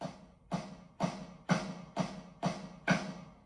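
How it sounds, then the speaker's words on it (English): Seven crisp rim shots on an AKLOT B CORE 530 Pro electronic drum kit snare, tapped at an even pace, each with a short ringing decay, fairly quiet and with no voices. "it allows you to do little rim shots like this"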